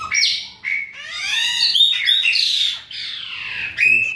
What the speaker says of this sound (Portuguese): Os pássaros pretos estão aí abrindo o bico.